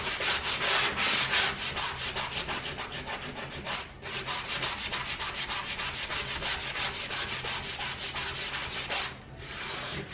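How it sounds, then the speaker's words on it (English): A sanding block rubs back and forth over painted wood on a thrift-store sign, a steady run of close, loud rasping strokes in a quick, even rhythm, broken by two short pauses. "take your sanding block and just go back and forth"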